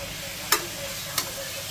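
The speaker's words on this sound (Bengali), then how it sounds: "আর এদিকে উস্তে ভাজা হচ্ছে।" Bitter gourd stirring and frying in a pan, a soft continuous sizzle with two brief scraping clicks of a spatula against the pan.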